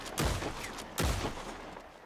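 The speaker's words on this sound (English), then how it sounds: "I guess it doesn't like gunshots" Two sharp gunshots ring out in the Western video game Red Dead RolePlay, each a loud boom with a lingering tail, spaced about a second apart and close by.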